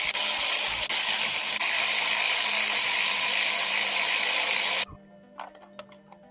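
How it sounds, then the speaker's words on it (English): A ratchet wrench works spark plugs out of a 2007 Mini Cooper S engine, giving a dense continuous clicking whir for about five seconds before stopping, followed by a few faint scattered clinks. "I'm currently taking the spark plugs out so I can have a look into the cylinders using an endoscope."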